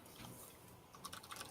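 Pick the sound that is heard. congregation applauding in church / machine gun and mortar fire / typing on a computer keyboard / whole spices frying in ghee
typing on a computer keyboard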